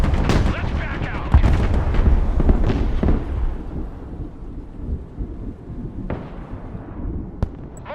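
Armored cavalry trade fire in a military strategy video game, with dense rattling gunfire and heavy booming blasts stacked together, loud and close at first and then thinning to scattered shots and a few sharp cracks.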